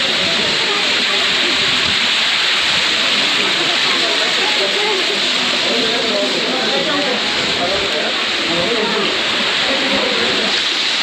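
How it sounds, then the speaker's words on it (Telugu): Rain falls while water streams down the stone steps of a hillside fort, making a dense, continuous rushing wash with no breaks. "స్టెప్స్ మీద వాటర్ వస్తూ, పైన వర్షం, చాలా బాగుంది."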